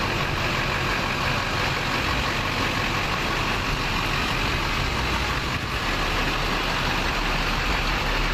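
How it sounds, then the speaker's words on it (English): A 2004 Chevrolet Silverado 2500 HD pickup with a Duramax diesel idles steadily, its low rumbling drone constant and close throughout with no other sounds. "This is a 2004 Chevrolet Silverado 2500 HD Duramax."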